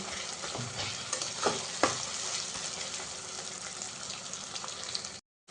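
Masala of tomato, salt and turmeric sizzling in a pan for chicken, with a spoon stirring and scraping through it, a couple of clear metallic clinks over a constant loud frying hiss that cuts off abruptly.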